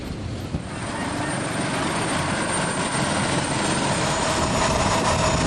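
Helicopter carrying flood aid for food and medicine distribution in Luwu, South Sulawesi, a continuous, loud rotor and engine roar that swells slightly and holds steady, with no talking.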